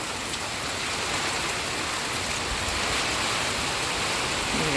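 Heavy rain driven by gusting wind in southern Thailand, a dense unbroken hiss of water pouring onto surfaces that stays loud and even throughout, with no voices.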